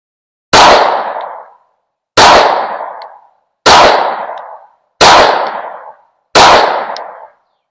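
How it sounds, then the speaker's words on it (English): Five sharp, loud pistol shots from a handgun fitted with a red dot sight ring out at an outdoor range, evenly spaced about a second and a half apart, each with a short decaying echo. "So let's shoot the other ones and see how it goes."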